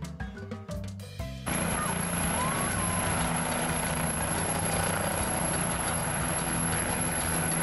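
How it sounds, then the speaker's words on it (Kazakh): A helicopter's loud, steady rotor-and-engine drone starts after a few brief, separate sounds at the opening and fills the rest of the clip. "Вертолет."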